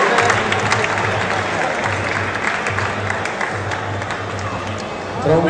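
Applause and crowd noise fill an arena at a Muay Thai fight night as the audience claps for the two fighters, a steady dense wash that holds for several seconds while a voice speaks over it.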